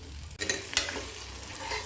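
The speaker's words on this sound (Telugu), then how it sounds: "ఆ పేస్ట్ మనం ఇందులో యాడ్ చేసుకోవాలి చేసుకొని మెల్లగా కలుపుకుంటూ కొంచెంసేపు ఉడకనివ్వాలి" Masala paste stirred into a simmering egg curry in a pan, a brief close scrape and sizzle with a spoon knock near the middle, alone without voices.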